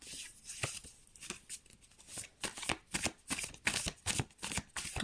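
Tarot cards are shuffled by hand close up, a series of crisp riffling bursts that grow more regular and rhythmic, with no voices.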